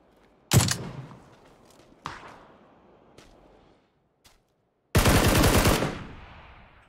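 PUBG gunfire in a battle-royale match: a few sharp single shots spaced apart, each with a short ringing tail, then a louder, longer burst of rapid automatic fire.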